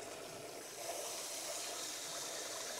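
A tap runs water steadily into a sink on a cold day while waiting for the hot water, a constant hiss that swells slightly after the first second and holds without talk.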